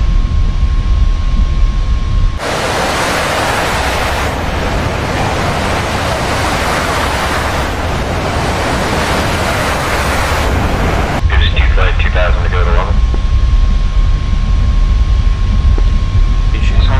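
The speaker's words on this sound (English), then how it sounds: "Beautiful morning takeoff." Jet engine roar from an aircraft taking off in the DCS flight simulator, a loud steady broadband rush that surges and holds for several seconds before easing, with brief cockpit tones near the end.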